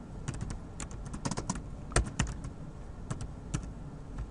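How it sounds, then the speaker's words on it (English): Quick bursts of typing on a computer keyboard, close and moderately loud, with uneven clusters of key clicks and a few sharper strokes, no talking. "Let's just type something real quick."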